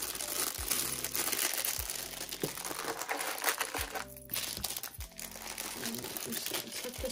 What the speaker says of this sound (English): I just have my box here with a little bit of tissue paper.